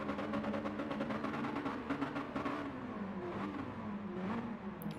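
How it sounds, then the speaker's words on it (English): Several race car engines in a Mazda racing video game rev together at the start line, a dense, steady droning roar with rising and falling pitch sweeps, loud and continuous throughout. "Revs are up."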